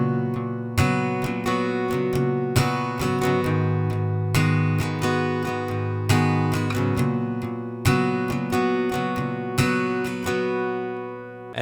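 An acoustic guitar strums the verse chords of a song in a down-down-down-down-up-up-down-down-down-up pattern, with clear, evenly repeated chord changes, close and alone.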